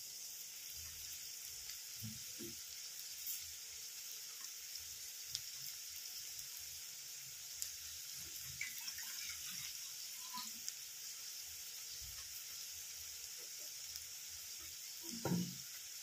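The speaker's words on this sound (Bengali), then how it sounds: "এখানে আমি এবার জল দিয়ে দেবো" Water is added to a hot pan of aloo phulkopir dalna, a Bengali potato and cauliflower curry, and a steady broad sizzle and bubbling cooking hiss runs throughout, with faint clinks of utensils and no talk.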